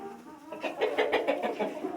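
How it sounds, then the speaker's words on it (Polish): Several hens cluck softly in a busy, overlapping chatter that rises after a quiet moment, faint and close. "Tu kury jeszcze siedzą."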